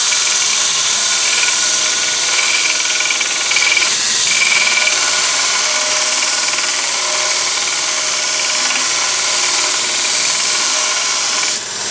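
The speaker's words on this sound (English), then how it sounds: "I don't know why I got a 2-inch grinder, but this is 80 grit, and I really don't care about the belt" Metal ground on a 2-inch belt grinder fitted with an 80 grit belt, a loud, steady high-pitched grinding hiss that runs unbroken and close for the whole stretch, then eases near the end.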